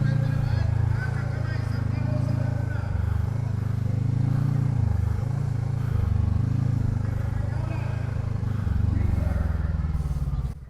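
Geese honking loudly and repeatedly close by over the low rumble of an idling Voge 500DS motorcycle, with a voice briefly heard among the calls.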